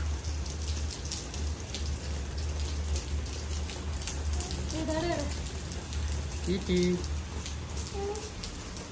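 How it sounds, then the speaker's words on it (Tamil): Rain falling outdoors in a steady dense patter with a low rumble underneath, while people talk briefly over it and distant music plays faintly. "மழை வேறப்பா."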